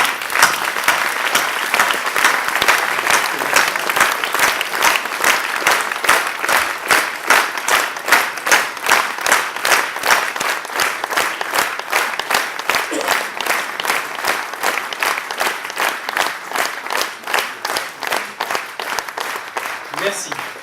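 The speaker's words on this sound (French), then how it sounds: "je vous propose d'exprimer notre solidarité, celle de la profession, par une minute d'applaudissements" A professional audience joins in a long minute of applause in solidarity, steady, dense clapping from many hands that continues throughout with a slightly rhythmic pulse toward the end.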